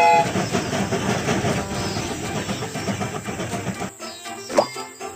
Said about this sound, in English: The train is about to start.